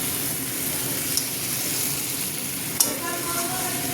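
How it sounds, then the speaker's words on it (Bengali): Potatoes with spices frying in a pan as they are stirred, a dense steady sizzle up close with two sharp utensil knocks against the pan. "এই যে এখানে আলু দিয়ে কষিয়ে নিলাম, এই দেখো।"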